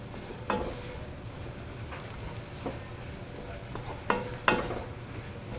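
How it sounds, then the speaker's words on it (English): Onions for a chicken and smoked sausage gumbo are stirred as they cook down in a pot: a soft, steady sizzle with a few distinct scraping strokes of the spoon against the pot bottom. "keep on stirring this until my 15 minutes is up"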